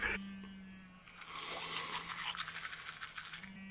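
A battery-powered vibrating toothbrush runs close by with a steady, high-pitched electric buzz that holds for several seconds without any talking.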